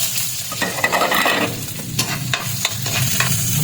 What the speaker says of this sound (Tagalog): Gisa na natin itong bawang. Yung maraming sibuyas para mabango.